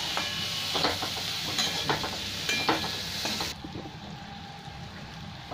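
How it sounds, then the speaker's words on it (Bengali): Spices frying in a pan for a kaali masoor dal with tomato and green chillies, a close sizzle broken by repeated stirring scrapes, dropping abruptly to a quieter, duller simmer partway through, no speech. "মশলাটা আমার খুব ভালো ভাজা হয়ে গেছে"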